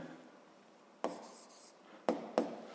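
Pen strokes write the letter M on paper, three short, close scratching bursts separated by brief pauses in a quiet room.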